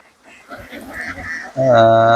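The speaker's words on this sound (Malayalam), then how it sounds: "താറാവ് കൂട്ടോ" A flock of ducks quacks close by in scattered calls, with people talking over them and a louder, sustained tonal call near the end.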